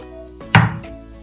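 Onions dropped into melted vegan butter in a pan, a single thudding impact followed by a brief burst of sizzle that quickly fades, close and loud.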